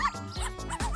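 Dogs being walked give about three quick, close yips in a row, short and sharp with brief gaps between them.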